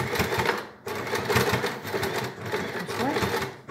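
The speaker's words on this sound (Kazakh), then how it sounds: "Осылай тігіп аламыз." Sewing machine stitching the slit of a skirt in burgundy fabric, running in steady bursts with a brief pause near the start, loud and close with no talk over it.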